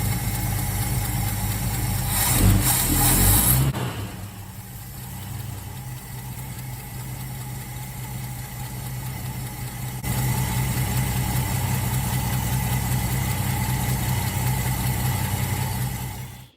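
A 1965 Ford XP Falcon wagon engine idles steadily with the choke off, a continuous close rumble with a steady beat. A brief louder burst comes early, then the idle settles, rising slightly partway through.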